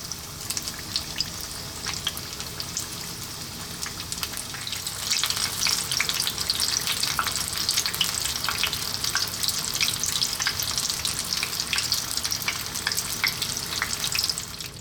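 Vegetable spring rolls fry in oil on medium heat, giving a steady, close crackling sizzle that builds slightly partway through and holds continuously with no talking.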